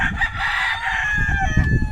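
A rooster crows once, a loud drawn-out call close by, over low rumbling background noise.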